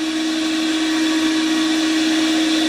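Power sander with a worn sanding disc grinding down an ebony fretboard for a Trace Elliot T bass in a workshop, a loud steady whirring drone with no pauses.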